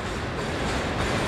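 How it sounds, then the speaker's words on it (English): A train rolls past close by, a steady, loud broadband roar of railcars and wheels on track filling the whole moment without pause, with no voices over it. "look at this train"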